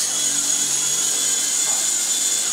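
A WLtoys V913 brushless RC helicopter lifts off with a steady high-pitched motor whine and rotor hum, loud and close, holding constant throughout with no talking.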